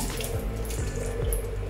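Water pours steadily into a betta fish tank during a water change, a close, continuous splashing and gurgling with no speech.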